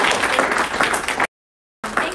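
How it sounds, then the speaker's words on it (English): An audience applauds panelists at a panel event on religious liberty and Catholic health care, a dense burst of clapping that breaks off into silence briefly and then resumes. "one more round of applause for our wonderful panelists"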